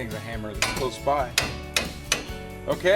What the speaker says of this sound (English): Anything's a hammer that's close by.